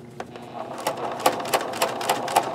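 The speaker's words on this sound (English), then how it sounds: "So when you're sewing these salvaged pockets on from the jeans, you know, don't go too quickly." A sewing machine stitches salvaged jeans pockets onto denim, working slowly through the fabric with a quick run of rhythmic clicking pulses, close and moderately loud, with no talking.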